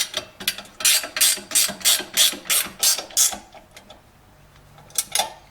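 Ratchet wrench with a 19 socket tightening a bolt while fitting a tow package on a Lexus GS400, about ten close, rhythmic clicking strokes followed by a quiet pause and a final click.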